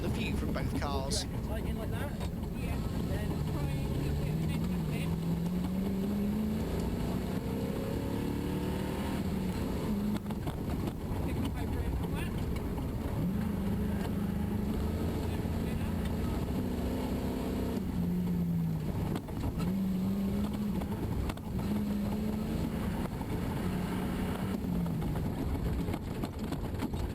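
Rally car engines roar from onboard on a stage at Tiverton, a loud continuous drone rising and falling as the car accelerates and shifts, with a commentator talking over much of it.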